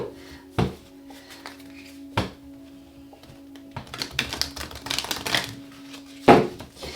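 A deck of tarot cards is shuffled close by: a few isolated soft taps and flicks, then a denser, riffling burst of papery clatter, ending with one sharp snap.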